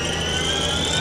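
Steady high-pitched whine of a spinning spindle on a Haas VF-5D/40 vertical machining center, running at about 1,000 RPM, continuous and fairly loud with a constant tonal hum and no talking.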